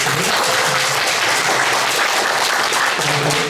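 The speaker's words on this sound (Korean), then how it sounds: "축하의 박수, 감사의 박수" Congregation applause at a Sunday church service welcoming newly registered members, steady broadband clapping filling the room for several seconds, fairly loud and close with no talk over it.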